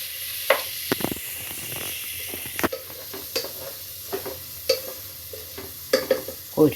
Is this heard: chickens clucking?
no